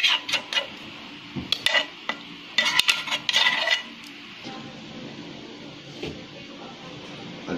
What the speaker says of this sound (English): imimix mo siya doon sa ginawa nating cornstarch paste